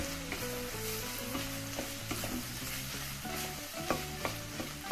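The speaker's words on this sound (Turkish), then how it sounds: "Salça ile beraber bunları iyice kavuruyoruz" Onions fried with homemade village tomato paste in a pan, a steady close sizzle with repeated soft scrapes of a spoon as the mixture is stirred, and no one speaking.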